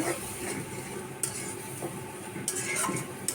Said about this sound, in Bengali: তারপরে একটু নেড়ে চেড়ে মশলাটাকে ভালো কষিয়ে নেব